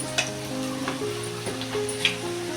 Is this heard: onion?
yes